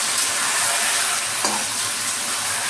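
Marinated mutton for vindaloo fries in plenty of hot oil, a loud, continuous close sizzle with a brief scrape of stirring midway through.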